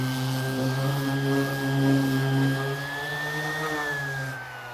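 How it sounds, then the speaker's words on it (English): A bandsaw runs steadily, freehand cutting a 6.5-degree angle on the back of a wooden chair arm, giving a continuous loud whine and hum that rises slightly under load before easing off at the end. "I'll freehand it through the bandsaw."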